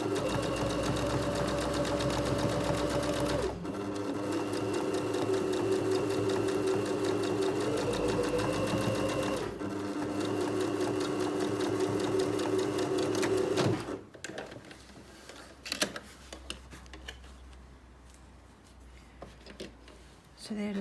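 A sewing machine runs steadily in close, even whirring bursts as it stitches reinforcement rows along a denim-style jeans seam, pausing briefly before starting again, then stopping as quiet handling noises follow.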